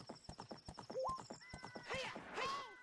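In Zelda: Ocarina of Time, the horse Epona gallops with quick rhythmic hoof clip-clops, then whinnies in high rising neighs, loud and close, with game music tones underneath.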